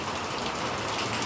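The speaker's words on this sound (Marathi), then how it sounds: "आता जाम पाऊस आला, नाही का." Heavy monsoon rain pours down at the foot of the Sahyadri hills over flooded paddy fields, a dense, unbroken patter heard briefly and alone.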